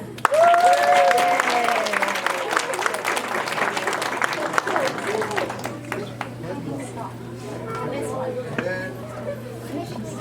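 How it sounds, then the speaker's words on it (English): Audience applause at a Lunar New Year performance, a loud burst of crowd clapping that thins out over several seconds, with a voice and chatter over it. "One more applause for them."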